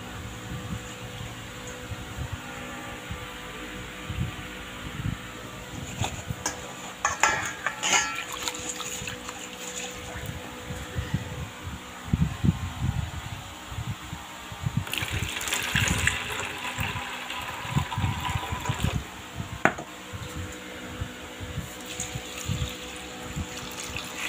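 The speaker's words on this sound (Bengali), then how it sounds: "এই দেখো ডালটা ধুয়ে নিব" Dal lentils are washed in water, with splashing and sloshing that rises and falls in uneven surges, close by and moderately loud with no talking.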